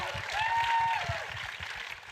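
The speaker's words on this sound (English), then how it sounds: "So let's give them a round of applause." Audience applause after a panel on climate in children's media, a moderate wash of clapping with a faint tone and low rhythmic thumps underneath, dipping slightly near the end.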